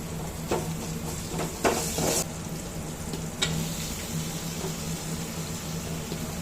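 Tomatoes fry in a pan over onion and ginger-garlic paste for a drumstick tomato curry, a steady low sizzle with a few sharp utensil clinks and scrapes near the start.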